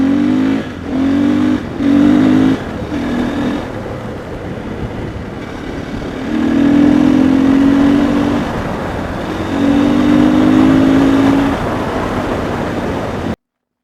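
A KTM 500 EXC-F motorcycle doing wheelies revs close and loud in short repeated throttle blips, then in two longer pulls where the engine climbs and holds before easing off.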